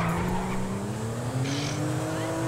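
A car skids in GTA V, a continuous rising engine whine under long tire squeal and scraping, loud and close for a couple of seconds.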